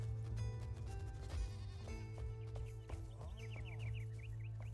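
Young goat in the video game Enshrouded bleating several times, a clear wavering bleat over steady game music with low ambient hum.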